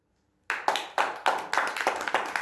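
A church congregation at a Christmas service breaks into clapping after near silence: a burst of hand claps with distinct rhythmic peaks, fairly close and moderately loud, with no speech.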